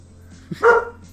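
A dog barking in the Tennis Ace video game, one short yip followed by a single louder bark against near silence.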